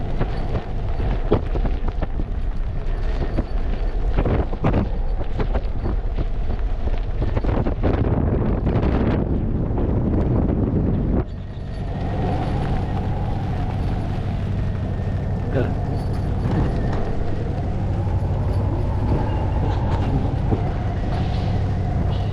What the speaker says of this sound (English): It's pretty harsh wind right now.